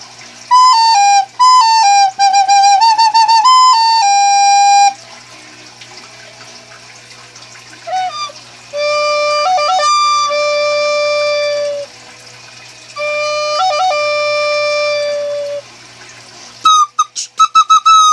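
A person whistles an imitation of the Loch Ness Monster, giving rising and falling phrases, steady held tones and quick trills in separate bursts with short pauses between them, loud and close against faint background hum.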